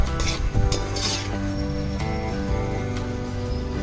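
Tomatoes being stirred slowly in a pan for Maggi noodles, with a steady sizzle and repeated clinks of a spoon against the metal, close and fairly loud with no talking.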